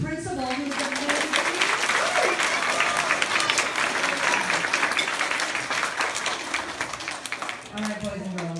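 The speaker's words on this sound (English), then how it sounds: "How about a big round of applause for your principal who's amazing?" A school assembly audience applauds the principal with a sustained burst of clapping and cheering from a large crowd of children, while a voice on a microphone talks over it.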